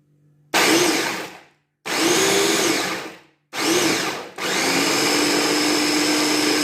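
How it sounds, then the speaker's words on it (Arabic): A blender grinds cheesecake base ingredients in three loud whirring bursts, the first two lasting about a second each with short pauses between, the last running steady to the end. "إذا سنبدأ في الطحن"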